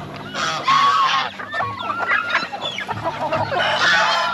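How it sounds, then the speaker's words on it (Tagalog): Mixed flock of turkeys and chickens on a farm, loud overlapping honks, gobbles and clucks close by, with a rooster-like call among the busy poultry chatter. "Dami na rin kasi nito mga pabo natin. Halo-halo to, mga manok, pabo."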